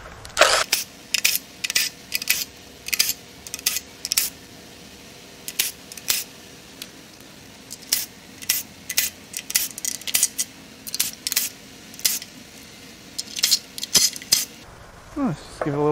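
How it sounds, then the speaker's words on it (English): Metallic clinks and rattles of bolts being pulled from the lower oil pan of a Toyota 4.7L 2UZ engine during a teardown, a series of sharp close ticks and taps scattered irregularly with quiet gaps between. "Go ahead and pull the bolts out of the lower pan."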